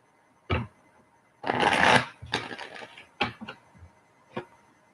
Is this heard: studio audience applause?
no